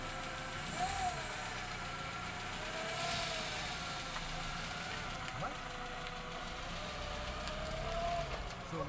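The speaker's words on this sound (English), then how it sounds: "So we got it idling, now we're going to attempt to drive it." A junker VW Jetta idles, its mid-pitched engine running with a steady, faintly uneven rumble, while people talk nearby.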